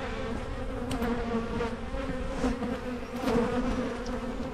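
Honeybees buzz steadily in a dense, continuous drone close by while a hive is opened for its first spring inspection, frames holding stored pollen.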